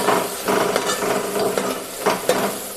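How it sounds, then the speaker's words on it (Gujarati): A spoon scrapes and clatters around a pan as masoor dal is stirred with Kashmiri chilli, amid a soft background sizzle, with several distinct knocks against the metal and no talking. "હલાવી લઈએ."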